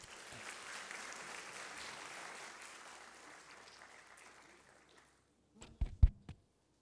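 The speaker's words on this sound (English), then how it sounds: "Please join me in giving a round of applause to the sir." An audience at a formal aviation ceremony applauds steadily. The clapping fades out after about five seconds, and a few hollow knocks and thumps follow close by.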